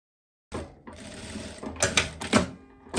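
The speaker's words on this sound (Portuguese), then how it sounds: "vou começar a fazer essa costura aqui bem no meio do corpo" Sewing machine running a seam down the middle of a viscose dress body, a steady mechanical whir with rising, pulsing bursts that start after a short silence, close and fairly loud.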